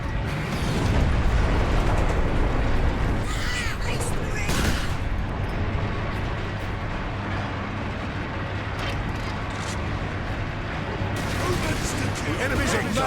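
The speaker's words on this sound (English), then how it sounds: "Gun firing in 3, 2, 1" Heavy artillery gun fires shells repeatedly in the Space Marine game, a sustained thunderous barrage of booms and bursts with mechanical clanking over a constant loud low rumble, voices speaking throughout.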